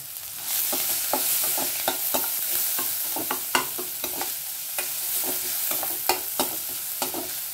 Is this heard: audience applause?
no